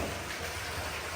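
Heavy rain pouring steadily, a dense, constant hiss that fills the short stretch with no breaks and no voices.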